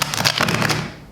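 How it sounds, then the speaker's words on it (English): Tarot cards being shuffled by hand, giving a run of quick, papery riffling bursts that fade out near the end, with no talking. "See how the cards are just like not wanting to shuffle"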